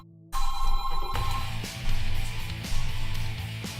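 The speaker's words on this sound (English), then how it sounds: "Ah, my phone's ringing." A mobile phone ringtone plays in repeated melodic bursts after a brief silence, loud and close, with no talking over it.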